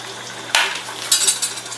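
Green beans drop into a hot pan of cooked-down tomato marinara for panakbet, bursting into a loud sizzle that flares twice in quick succession, alone without any talking.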